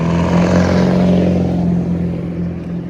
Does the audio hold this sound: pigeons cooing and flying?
no